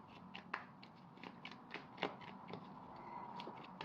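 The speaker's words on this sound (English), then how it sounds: "This card flicked over as I was shuffling" Tarot cards are shuffled quietly by hand, giving a series of soft crisp riffles and flicks at an irregular rhythm, close and faint with no talking.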